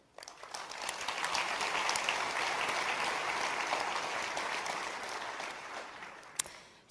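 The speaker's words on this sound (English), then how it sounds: "So round of applause for them." Audience applause at a tech conference keynote, a dense clapping wash that swells quickly, holds steady for several seconds and fades, with a single sharp clap near the end.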